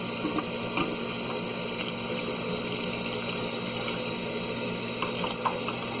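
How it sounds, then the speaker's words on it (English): An air pump runs in a steady, continuous whine and hum during a heater core flush on a 2006 Pontiac Grand Prix, close by and unchanging, with faint clicks and no talk. "The loudest thing on is the air pump."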